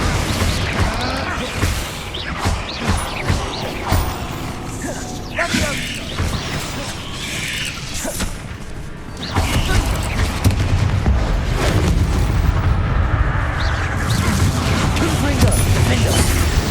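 The Confringo fire-blast spell in Hogwarts Legacy goes off amid combat in underground catacombs, a loud dense barrage of blasts, clanks and booms over continuous mechanical noise.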